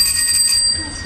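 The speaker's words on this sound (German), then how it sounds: "Klingel." A bicycle bell rings once with a bright, sustained metallic tone that fades slowly, loud and close, heard on its own.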